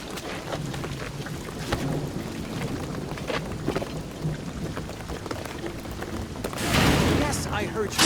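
Steady, dense rain pours through a Shadow of the Tomb Raider game scene, with a sharp, loud thunderclap bursting near the end over the constant downpour.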